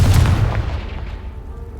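A Confringo blasting spell in Hogwarts Legacy explodes with one loud, deep boom that rumbles and fades away over a couple of seconds.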